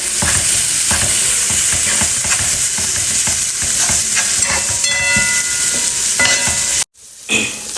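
Grated coconut stirred and fried in a spicy masala for Kerala-style prawn puttu, with a steady sizzle and scraping of the spoon in the pan continuing up close, then briefly cutting out near the end.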